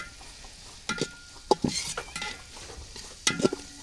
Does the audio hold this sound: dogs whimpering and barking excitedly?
no